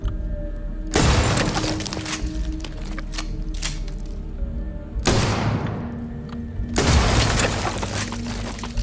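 Three loud shotgun blasts from a video game space shooter, each a sharp burst with a decaying tail, spaced a few seconds apart over steady game ambience.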